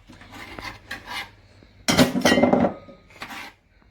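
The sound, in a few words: knife chopping beetroot into a bowl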